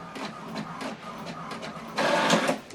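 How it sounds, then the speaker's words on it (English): A printer runs off a welcome page, with close-up rhythmic whirring and shuttling print-head strokes followed by a louder burst of feeding paper, steady and without speech. "what it's doing now is printing the welcome information that I sent to this printer"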